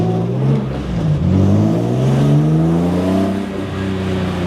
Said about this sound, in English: the thing with the S54 is it's really raspy unless you like properly quieten it down and tame it